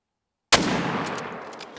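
A 30-06 rifle fires once in theHunter: Call of the Wild, a sharp loud crack after silence that rolls into a long decaying echo across the open Yukon Valley landscape.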